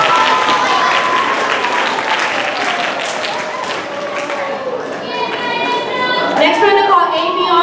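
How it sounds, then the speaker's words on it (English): Applause from a school assembly audience, a steady wash of clapping lasting several seconds that thins toward the end amid crowd chatter. "Let's give her another round of applause."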